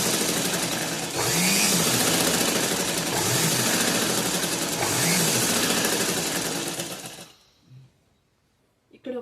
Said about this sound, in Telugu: ఇక్కడైతే ముందు ఒకటి స్టిచ్చింగ్ అయితే వేయాలండి